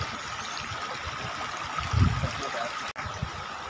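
A mountain stream, called a gadhera, on a Himalayan trek route to Dayara Bugyal, with a steady broadband rush of flowing water and a brief louder splash near the middle.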